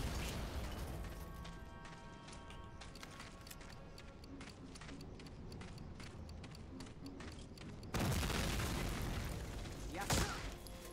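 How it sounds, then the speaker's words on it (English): Grenades explode in Medal of Honor: Allied Assault, with mechanical game clatter and scattered pops building up to a heavy, loud blast near the end, followed by a sharp burst shortly after. "Grenades."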